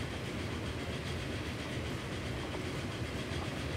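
A train in Transport Fever runs along the rails at about 36 miles per hour, giving a steady, continuous rumble with a rolling clatter of wheels throughout.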